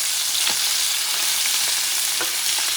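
Chicken pieces searing in a hot pan for citrus orange chicken, a loud continuous frying hiss with faint bubbling pops throughout, close up with no talking.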